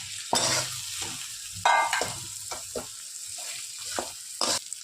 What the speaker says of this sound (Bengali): মাছের মাথাটাকে ভালো মতো ভেজে নেব।